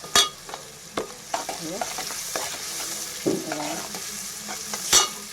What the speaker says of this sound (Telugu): ఉల్లిగడ్డ ఇలా ఫ్రై అయిందిగా